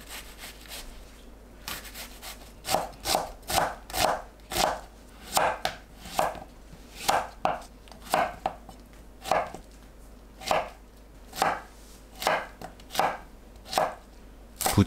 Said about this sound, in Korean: 양파와 애호박을 작게 썰어주세요.